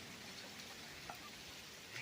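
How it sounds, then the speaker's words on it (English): Steady rain falls on a storm-damaged homestead garden, making a soft, continuous hiss with faint scattered drops and no voices. "It's still raining pretty good."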